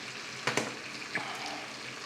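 Sage leaves hit hot butter in a pan with a soft, continuous sizzle, broken by a few small pops and crackles.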